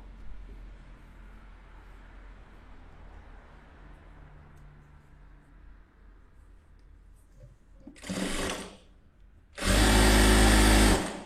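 A sewing machine stitches cloth for a bag in two short bursts, first a brief run and then a louder, longer one, after a stretch of quiet room hum with no speech.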